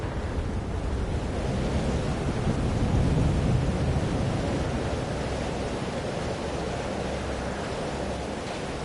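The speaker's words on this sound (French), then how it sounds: "Sur la tempête? C'est en train de recommencer ici." A thunderstorm rages in the video game Life is Strange: Double Exposure, with a continuous roar of wind and heavy rumbling that stays loud and dense throughout, without voices.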